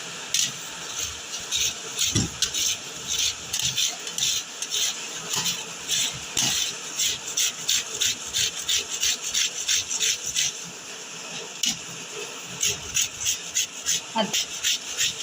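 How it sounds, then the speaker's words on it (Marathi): Raw green mango rubbed against a hand grater, a steady run of rhythmic rasping strokes close up, each pass scraping quickly with brief pauses between. "अशा पद्धतीने मी सगळी कैरी किसून घेणार आहे"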